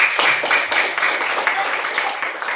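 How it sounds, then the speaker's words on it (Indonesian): Classmates clapping for a pupil in a primary school lesson, a dense close patter of small hands at even loudness throughout. "Tepuk tangan untuk Krisna Chandra"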